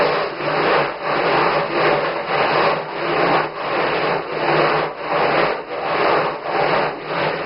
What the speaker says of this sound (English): So you you just grind your feet in that gravel, and it feels really good.